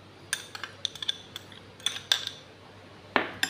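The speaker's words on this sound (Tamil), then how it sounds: "இந்த வெங்காயத்தை ஆட் பண்ணுவோம்" Chopped onions tipped into a bowl of peanuts for peanut sundal, with a few light, scattered clinks and taps of a spoon against the bowl, close and quiet with no talking.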